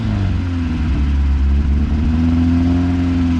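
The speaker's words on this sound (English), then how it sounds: "So it opens up when you get higher in RPM, but low RPM, not too bad." Engine of a Honda Integra DA9 revving steadily at higher RPM, a loud, close, continuous mid-pitched hum with a slowly rising tone and no talking over it.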